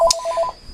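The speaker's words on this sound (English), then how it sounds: "Great, a phone call, of course." A telephone gives a short burst of rapid electronic ring pulses, close and fairly loud, then cuts off quickly.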